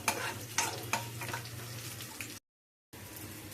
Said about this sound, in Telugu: వేగాలి ఇది కొంచెం బాగా.